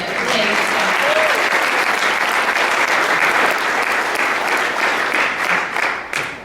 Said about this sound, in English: if we can give one round of applause for our wonderful video